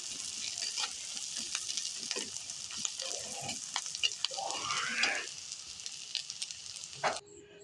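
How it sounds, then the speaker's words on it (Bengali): Onions and green chillies sizzle steadily in hot oil in a pan while being fried crisp for beresta, with occasional stirring scrapes, a continuous close crackle that holds throughout. "এই তো আমি পেঁয়াজ বেরেস্তাটা করে নিচ্ছি"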